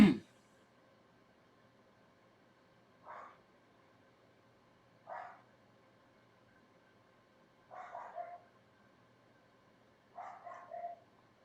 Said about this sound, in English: Can hear him barking away up there.